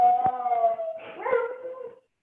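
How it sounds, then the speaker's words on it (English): A pet dog howls and yips in two drawn-out, wavering cries, close and fairly loud, with a short sharp bark breaking in before it falls silent. "sorry, my dog's going."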